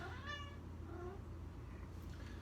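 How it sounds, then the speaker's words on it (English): A cat meows once near the start, a short harmonic call over a constant low hum and background noise, followed by softer faint sounds. "And this cat."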